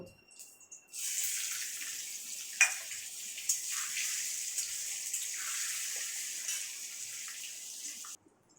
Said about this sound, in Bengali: আর এই পনিরটা আমি ভেজে নেব।